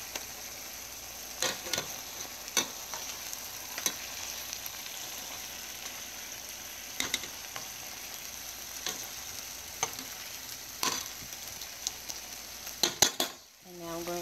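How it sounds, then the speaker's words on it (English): Steak pieces sizzling steadily in a pan alongside wilted greens, a constant frying hiss broken by sharp ticks and clicks of utensils as the meat is flipped, ending in a louder clatter. "now what I'm going to do is I'm going to flip my sticks over"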